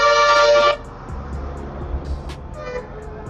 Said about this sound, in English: I hate honkers.